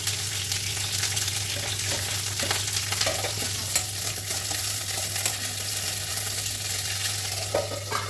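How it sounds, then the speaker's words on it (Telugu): Green chillies and fenugreek leaves frying in oil in a pan for a Telugu-style chutney, a steady continuous sizzle with occasional stirring scrapes, close and unbroken, with no voices over it. "ఇదిగోండి ఆయిల్ వేసిన పచ్చిమిర్చి వేసుకుందాం ఫస్ట్."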